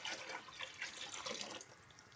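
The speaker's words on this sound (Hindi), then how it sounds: "हम इसमें और पानी डालेंगे।" Water poured into a cooking pot of trotter broth, a soft splashing and trickling stream that runs steadily and fairly faint, with no talk.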